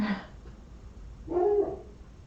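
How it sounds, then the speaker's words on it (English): A dog gives a short bark, goes quiet briefly, then lets out a longer, louder bark, heard from a short distance away. "hoping that we won't hear Coco bark as much"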